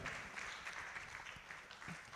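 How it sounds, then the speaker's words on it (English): A school audience at a secondary school debate competition applauds the judge as he comes up, a faint, distant, steady wash of clapping with no talk over it. "Please, a round of applause for Judge Shola as he comes up to address the students before we start off"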